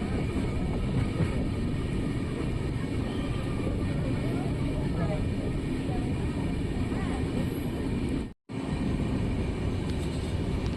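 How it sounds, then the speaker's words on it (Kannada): Basava Express train pulling into platform 3 at Gauribidanur railway station, a steady loud rumble of rolling carriages heard from on board, continuous throughout with a brief dropout near the end. "ನಮ್ಮ ಟ್ರೈನ್ ಈಗ ಗೌರಿಬಿದನೂರು ರೈಲ್ವೆ ಸ್ಟೇಷನ್ಗೆ ಎಂಟ್ರಿ ಆಗಿದೆ,"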